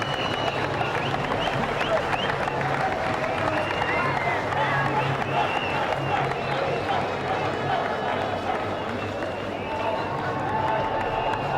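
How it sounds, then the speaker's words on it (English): An audience at a cricket semi-final prize ceremony claps steadily in sustained applause, a dense patter of many hands with some crowd noise mixed in. "I would like you still to give them a round of applause"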